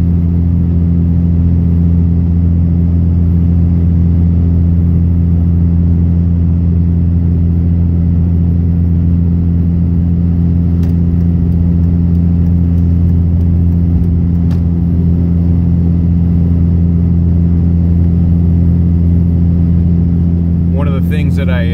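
A third-generation 5.9 Cummins diesel truck tows uphill at 65 mph on the Cajon Pass, its engine a loud, constant low drone and road rumble inside the cab, with a voice speaking over it throughout.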